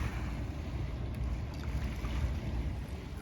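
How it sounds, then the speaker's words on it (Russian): A small motorboat runs on Lake Baikal near Listvyanka, a steady low engine rumble with wind and lapping water, moderately loud and continuous, with no voices. "Там катерочек едет."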